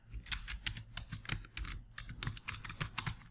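Quick, light typing on a computer keyboard as a password is entered, a steady run of soft, close key clicks with no talking over it.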